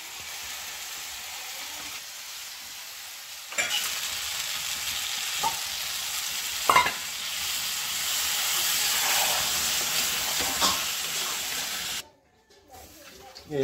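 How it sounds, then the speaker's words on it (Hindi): Potato curry (aloo sabzi) frying in a pan, with a steady broad sizzle and hiss broken by a few sharp stirring scrapes, ending with a brief drop and clatter. "पूरा भुंजा चुका है आलू की सब्जी"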